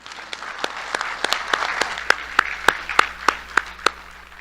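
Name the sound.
audience applause at a Cherokee ambassadors competition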